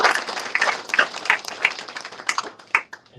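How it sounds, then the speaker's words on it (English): A graduation audience applauds the navigators of a human services career support program, dense clapping close and lively, with scattered sharper individual claps, thinning slightly toward the end. "Please give them a huge round of applause."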